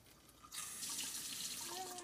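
Tap water starts running slowly into a foamer bottle, a soft hiss and trickle that begins abruptly and continues steadily, with faint rising gurgles as the bottle fills.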